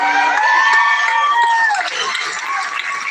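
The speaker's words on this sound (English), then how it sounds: "A round of applause for all our special award winners and graduates today." A crowd applauds and cheers for special award winners and graduates at a graduation ceremony, a steady loud wash of clapping with a voice ringing over it and easing slightly toward the end.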